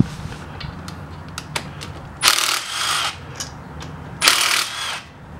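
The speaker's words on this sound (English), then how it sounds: "the first thing we got to do is take off the caliper" Hand tools work on the front brake caliper of a 2008–2016 Dodge Journey, with scattered metallic clinks and taps and two short bursts of a power tool whirring nearby.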